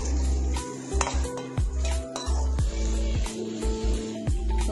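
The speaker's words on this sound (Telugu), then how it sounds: "టోస్ట్కి ఉల్లిపాయ ముక్కలు, కొన్ని వెల్లుల్లి ముక్కలు వేసుకుందామండి." Onion and garlic pieces frying in oil in a kadai, the sizzle broken up by repeated scraping and clinking of a metal spoon stirring against the pan, close and busy with no talk.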